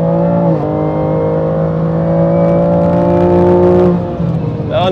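A BMW M2 Competition tuned to 680 hp runs flat out on a track near 210 km/h, its engine holding a loud steady high-pitched drone from inside the cabin, with a brief gear-change dip and a fresh rise at the end.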